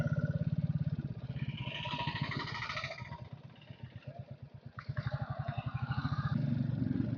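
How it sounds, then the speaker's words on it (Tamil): Royal Enfield Classic 350 engine thumping steadily while riding on a road near a railway gate, a close, continuous single-cylinder pulse that dips briefly and swells again, with no talk over it. "உங்களுக்கு வண்டி இன்ஜின் நாய்ஸா ரொம்ப கேட்கும்னு நினைக்கிறேன்."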